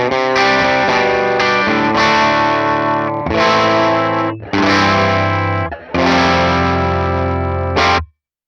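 Distorted electric guitar through a 1x12 Celestion Creamback cabinet miked with a dynamic 57 model plays loud sustained chords in several phrases, with short gaps between them and a final ringing chord that cuts off abruptly.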